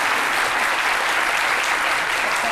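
A television studio audience applauds, a dense, loud, continuous clapping that fills the whole moment without pause.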